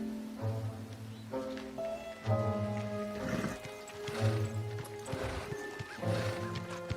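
A horse whinnies and snorts repeatedly, fairly close, with a few soft hoof clops between the calls.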